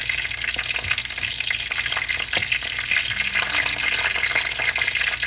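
Green chilies sizzle and fry in a pan while being stirred, a loud continuous crackle with scraping stir strokes and no talking.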